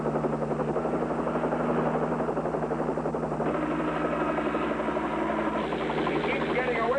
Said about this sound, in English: Highway patrol copter.